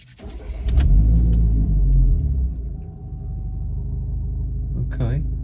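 A VW Scirocco R fitted with a Revo induction air filter starts and revs, a loud, deep rumble that swells and then settles into a steady idle, with a person talking briefly near the end.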